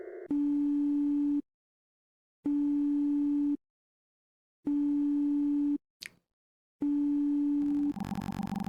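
Telephone ringback tone in the video game Bighead while waiting for an ambulance to answer: four long steady beeps separated by silent gaps, loud and close, with a brief chirp between the third and fourth.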